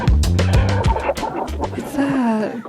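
Chickens cluck and squawk in a busy burst of repeated calls as a sound effect, loud and close, ending in a drawn-out, wavering cackle.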